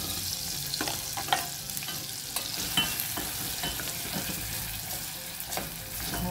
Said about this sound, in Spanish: Y empezamos por conectar mantequilla que se derrita para freír nuestro ajo y cebolla picada.